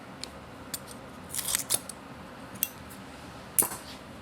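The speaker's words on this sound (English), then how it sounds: "Now I just have to cut those off, pare them off, trim the holes out," Scissors trim tape off a 1953 Les Paul Standard guitar being restored, with scattered crisp snips and light metallic clicks close up over a steady background hum from a running heater.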